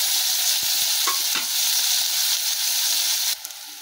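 Onions fry with salt in a pan, a close, even sizzle broken by a few clacks of a spoon stirring against the metal, easing off slightly at the very end.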